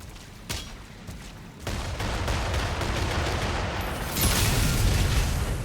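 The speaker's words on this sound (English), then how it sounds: "There we go. The last cannon has been destroyed." Artillery cannons being blown apart in the video game DOOM: The Dark Ages, heard as dense, continuous booming explosions and crackling blasts that build and grow louder, with no talk.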